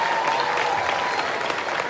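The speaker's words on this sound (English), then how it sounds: "we need to give Mr. Lewis an amazing round of applause for what he did" An audience at an elementary school third-grade program applauds Mr. Lewis, a dense, steady burst of clapping that stays even and full for the whole short stretch, with no talking over it.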